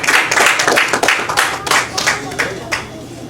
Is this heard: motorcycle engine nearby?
no